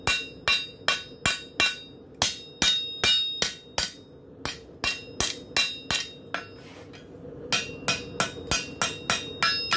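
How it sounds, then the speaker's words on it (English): Sharp metallic hammer blows ring out on an anvil, dulling a steel mower blade, in quick bursts of two to four strikes with brief pauses between, loud and close. "Dull some of it with the hammer."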